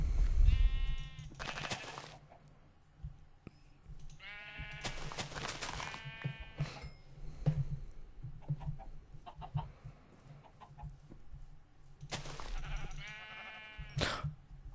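Sheep in the game Minecraft bleat in several harmonic, wavering calls at irregular intervals, some loud and close, others quieter, over a low steady hum, with clucking chicken sounds mixed in and no talking.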